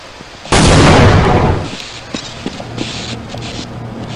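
A grenade blows up in the Half-Life video game with a loud, close blast that rumbles and fades over about a second, followed by scattered small debris clatters and a low hum.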